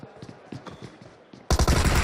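Gunfire in a BGMI mobile battle royale esports match, a few scattered shots followed by a sudden loud burst of rapid automatic fire at close range.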